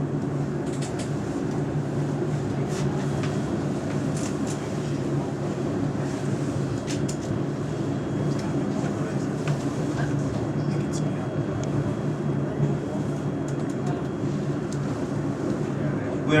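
Cairngorm Mountain funicular railway train climbing the mountain in Scotland, a steady low rumbling hum with rattles and wind noise throughout, while a recorded announcement voice speaks over it.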